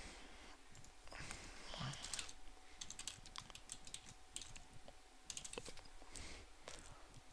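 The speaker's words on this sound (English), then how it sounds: "I'll type in my name once more." Fingers type on a computer keyboard while entering text in Paint.NET, making quiet, rapid clicking keystrokes in irregular bursts with brief pauses between them.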